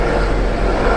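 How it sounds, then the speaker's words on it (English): A helicopter passing overhead near a superyacht on the water, a steady loud rotor-and-engine drone filling the whole second without pause. "we've got to stop, look at the helicopter."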